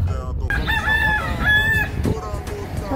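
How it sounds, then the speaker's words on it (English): A chicken crows outdoors at a McDonald's in Florida, a loud drawn-out cock-a-doodle-doo with a second crow following, set against steady background noise and traffic-like rumble. "There's a chicken just chilling here in Florida at Mickey D's."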